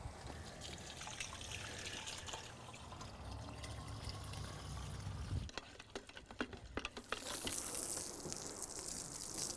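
Crystallized deck brightener poured into a gallon of water, giving a steady trickling, filling liquid sound that shifts to a brighter, hissier gush near the end.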